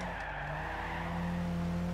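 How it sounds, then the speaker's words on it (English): A car drifting in the Gran Turismo 6 racing game, tires squealing in a continuous loud skid over steady engine drone, with no voices. "If you're able to drift the car like that"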